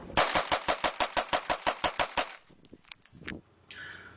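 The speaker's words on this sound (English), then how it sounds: "that was me shooting a stock Glock 19 straight out of the box" A stock Glock 19 pistol fires a rapid string of about fourteen sharp, evenly spaced shots at close range, followed by a few scattered clicks and knocks and a brief hiss.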